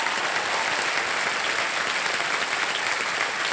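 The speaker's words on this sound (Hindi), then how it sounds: "तालियां बज जाए इनके लिए।" A studio audience on a televised quiz show bursts into sustained, dense applause that holds steady and loud throughout, with no voices over it.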